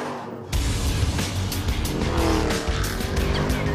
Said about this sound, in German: Auf der kalifornischen Rennstrecke Willow Springs tobt sich der Benzo richtig aus.